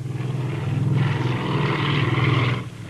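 Helicopter flying at modest altitude over a city skyline, a steady rotor and engine drone that swells and holds, then fades out near the end, heard alone.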